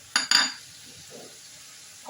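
Green masala potatoes with chilies and coriander being stirred in a pan: two quick scraping, sizzling strokes close together near the start, then a quiet stretch and a faint clink at the end.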